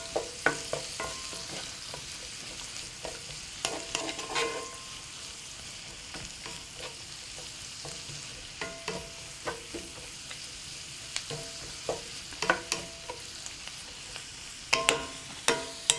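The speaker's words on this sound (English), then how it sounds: "You want the onions to get a bit translucent before we add the next dish." Onions and root vegetables sautéing with oregano in a pan, a steady soft sizzle broken by repeated sharp clicks and scrapes of stirring, close and fairly quiet, with no talk.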